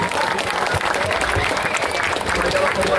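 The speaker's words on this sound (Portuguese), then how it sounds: "mais uma salva de palmas pro Celso" Crowd at a lively church gathering applauding for Celso, dense clapping and cheering mixed with voices and background sound, loud and continuous throughout.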